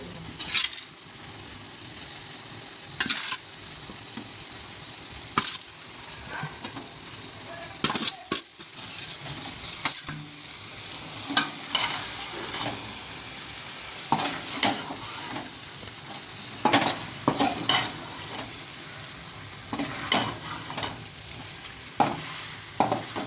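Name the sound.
eggs frying and stirred in pan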